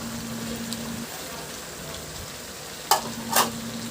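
Squash, eggplant and string beans cook in a pan with a steady, soft sizzle and occasional stirring, plus two brief sharper clatters near the end.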